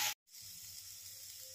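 Carrots, beans and a little potato fry in a frying pan with little oil, giving a steady, soft sizzling hiss after a brief silent gap, with no voices.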